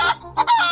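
A chicken clucks in a few short, close bursts, with a brief gap between calls.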